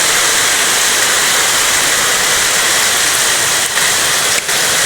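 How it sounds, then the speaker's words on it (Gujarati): Heavy, continuous rain pours down on a farm as a loud, dense, unbroken hiss close by, with no voices heard. "ઉતરીએ નહીં વરસાદ બંધ નહીં થાય"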